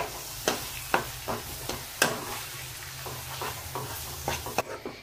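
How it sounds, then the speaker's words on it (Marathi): Ground masala paste being sautéed in a pan for a fish curry, with soft sizzling under repeated spoon scrapes and knocks against the pan at an irregular pace. "आता या मसाल्यामध्ये आपण हे वाटण परतून घेणार आहोत।"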